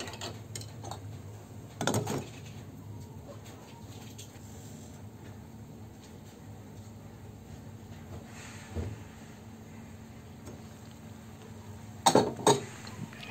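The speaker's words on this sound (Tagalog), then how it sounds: "Haluin natin ito at takpan ng 1 minuto lamang." Shrimp sinigang with malunggay and sitaw being stirred and covered: a low steady simmer runs throughout, broken by a few sharp metallic clinks near the start and a louder cluster of clanks near the end as the lid goes on.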